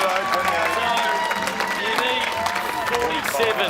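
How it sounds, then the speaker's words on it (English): Crowd applause and cheering at a darts challenge on a live footy TV show, a dense steady wash of clapping and shouts with music-like tonal layers running throughout, fairly loud and close. "Give him a round of applause."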